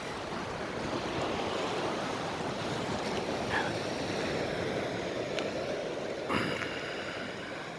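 Sea waves washing onto the shore at Yongduam in Goheung, a continuous broad rushing surf with wind buffeting the microphone and a few faint knocks, no talk.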